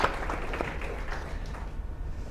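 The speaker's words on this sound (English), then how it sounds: "Warm round of applause, everyone, for our panelists." Audience at a business panel discussion applauding the panelists, a brief burst of dense clapping that gradually thins out, moderately distant in a hall.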